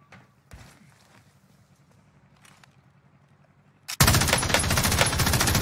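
In a Call of Duty Warzone match, a machine gun suddenly opens up in a loud, dense sustained burst after a few seconds of quiet clicks and shuffling movement.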